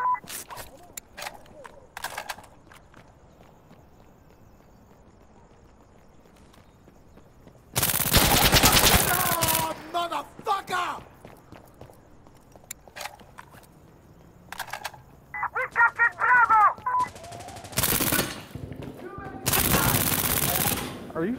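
Gunfire in the tactical shooter Insurgency: Sandstorm, with loud sustained bursts around eight seconds and again near eighteen and twenty-one seconds, separated by scattered single shots, footsteps and quieter movement; a voice talks between the bursts.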